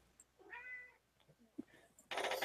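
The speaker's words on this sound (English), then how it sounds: "You got your kitty with you" A cat meows in a couple of drawn-out, quiet calls close to the mic, followed by a brief burst of louder noise near the end.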